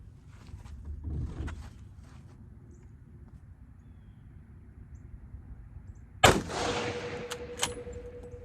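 A black tip rifle round fires at a Level IV armor plate outdoors: after a long quiet stretch, one sharp, loud shot cracks out and rings briefly into the distance, with a fainter knock shortly after.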